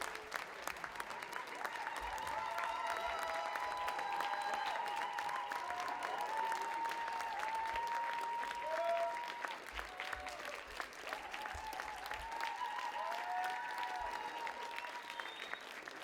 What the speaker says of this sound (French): levez-vous et applaudissez notre magnifique José Goulet